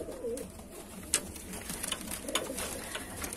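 Soft pigeon cooing from a Kalanka Madrasi tippler pigeon loft, a few low murmuring coos over steady indoor background noise, fairly faint and without talk.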